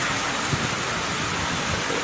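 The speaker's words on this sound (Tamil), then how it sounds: "இப்போ விளைய வச்ச நேரத்தில் மழை பெய்து அவங்களுடைய அறுவடையை கெடுப்பது போல் மழை பெய்கிறது." Steady, dense rainfall in Tenkasi district during harvest time, a loud continuous hiss of drops pouring down with no pauses and no voices.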